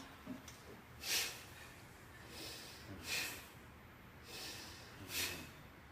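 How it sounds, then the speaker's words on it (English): Three deep breaths taken slowly during a calm chakra exercise, each a soft airy inhale-exhale swell spaced about two seconds apart, quiet and close with no talking. "So 3 deep breaths."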